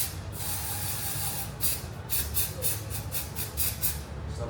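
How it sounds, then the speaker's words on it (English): Short bursts from a spray bottle misting oil onto hair during a haircut, about eight quick pumps in a fast, uneven rhythm, close and crisp over a low background hum. "I just spray a good amount."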